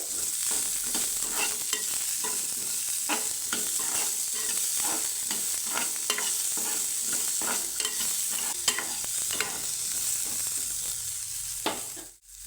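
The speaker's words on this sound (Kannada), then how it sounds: "ಈರುಳ್ಳಿ ಸ್ವಲ್ಪ ಸಾಫ್ಟ್ ಆಗೋ ತನಕ ಚೆನ್ನಾಗಿ ಹುರ್ಕೋಬೇಕು" Sliced onions frying in oil in a pan for a capsicum and potato gravy, a continuous close sizzle broken by regular stirring scrapes and taps, no talking.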